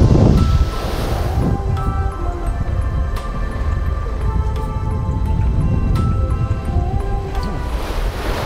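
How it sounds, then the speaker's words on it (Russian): Strong wind gusts across a beach on the Sudzhuk Spit on Russia's Black Sea coast, a loud continuous roar of buffeting air and microphone wind noise mixed with crashing surf, steady throughout with no talking. "Ветер начал дуть еще сильнее, задувает так, что стоять лицом к ветру и разговаривать просто невозможно."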